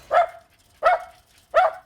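A terrier out hunting rats gives three sharp, evenly spaced barks, close and clear, each short and punchy with quiet gaps between them and no voices.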